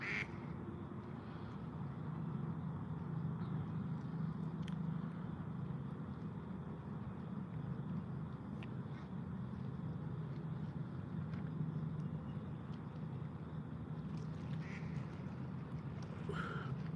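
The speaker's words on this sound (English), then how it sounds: "I see a couple more ducks a little further out there." Ducks quack faintly at a distance in a few scattered calls over a steady background hum of passing traffic.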